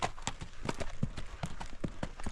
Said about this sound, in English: This is what makes the fox trotter the best trail horse in the world. This is the flat foot walk.